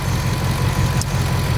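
A 2024 Ford Mustang GT V8 engine idles with a steady low rumble, a brief higher whoosh of intake air cutting through near the middle as it is revved.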